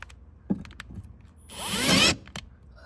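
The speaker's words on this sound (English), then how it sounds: "we are drilling an existing hole to enlarge it" A power drill enlarges an existing hole in a BMW i3 REX engine cover, with a few clicks and taps, then a rising whirring burst of about half a second, then more faint handling clicks.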